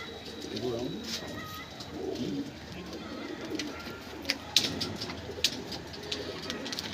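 Pigeons coo repeatedly close by in a loft, low throaty calls overlapping, with a few sharp clicks and faint voices in the background.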